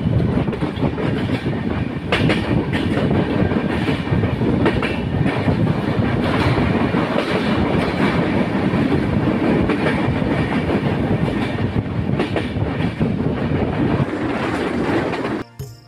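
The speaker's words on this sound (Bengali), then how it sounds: "কচ্ছপের গতিতে নন্দনকাশী রেলওয়ে স্টেশন ক্রসিং।" The Madhumati Express with LHB coaches rolls slowly through Nandankashi railway station, a steady loud rumble of wheels on rails with rhythmic clickety-clack, heard continuously from on board.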